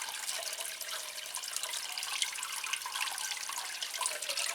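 Water poured over potted Phalaenopsis orchids, a soft continuous splashing and trickling, fairly quiet and steady with no talk.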